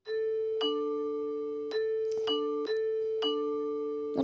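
A two-tone ding-dong doorbell chimes repeatedly, four rings in quick succession with a steady hum underneath, no voices.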